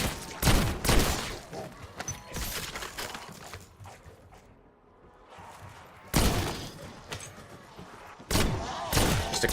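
Bursts of gunfire in a Black Ops 6 zombies round, loud rapid volleys with a quieter gap in the middle before heavy firing resumes.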